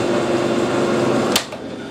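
A lathe under power drive screw-cutting a thread hums steadily with a broad mechanical whir, then cuts off abruptly after a short sharp click, leaving quieter room noise.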